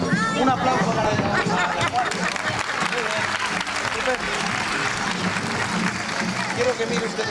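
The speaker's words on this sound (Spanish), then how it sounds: "Un aplauso para ella" Applause from an audience at a street-style magic show, a burst of clapping that swells at first and then continues under lively crowd chatter and voices close by.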